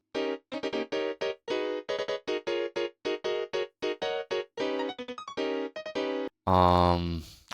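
Short, clipped synth chords stab in a bouncy rhythm, each cut off quickly, ending on a longer, brighter sustained chord.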